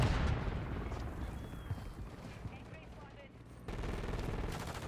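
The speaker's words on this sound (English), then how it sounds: "Especially with a submachine gun." Bursts of Rival 9 submachine gun fire in Call of Duty MW3 crackle loudly and close, dense rapid shots dominating the opening seconds, then easing before another burst near the end.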